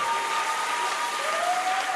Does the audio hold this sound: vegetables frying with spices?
no